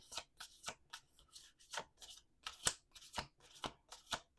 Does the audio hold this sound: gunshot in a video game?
no